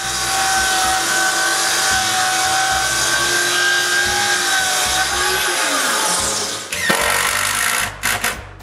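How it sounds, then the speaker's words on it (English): A power saw cuts through 2x3 lumber on a shop floor, a loud steady whine with shifting pitch for several seconds before winding down, followed by a few clattering knocks. "We make most of the cuts on 2x3s on the floor."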